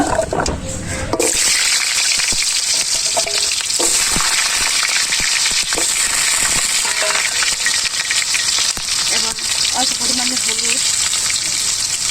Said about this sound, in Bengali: তেলটা গরম আলুটা দিয়ে দিন